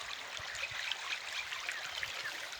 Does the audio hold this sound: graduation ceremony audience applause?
no